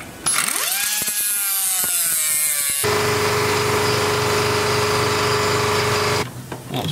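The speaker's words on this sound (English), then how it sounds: "I'm just gonna cut this and replace it with a regular hose clamp" A rusty hose clamp being cut off a radiator hose on a Subaru EJ20 WRX engine: a close, loud power tool whines and rises in pitch, then settles into a steady, harsh grinding before stopping.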